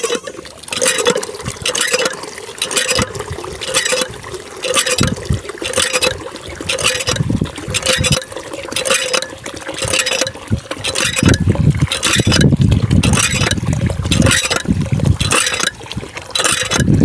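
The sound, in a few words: water running from a faucet to water goats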